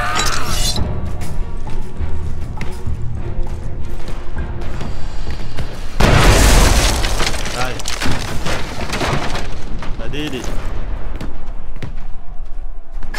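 In the video game Shadow Tactics: Blades of the Shogun, a loud booming cannon blast bursts out midway through busy game sounds, with crashing debris and clatter after it, all fairly close.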